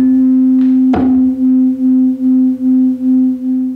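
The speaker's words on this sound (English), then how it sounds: "Now if I sound them together, you'll hear them interfering." Two slightly mismatched tuning forks, one weighted with a little extra mass to lower its pitch, struck together: a sharp strike followed by a steady pure tone that swells and fades in a regular, rapid beating pulse, alone without speech.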